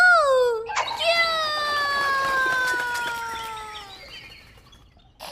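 A cartoon turkey clucks in a long, wavering, strained cry that glides through several drawn-out pitches before trailing off, loud and close with no talk over it.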